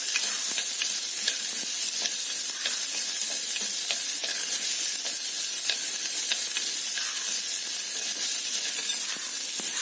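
Onion and other ingredients sautéing in a pan for sambhar, a steady close sizzle and frying hiss with scattered scraping stir clicks throughout, no voices.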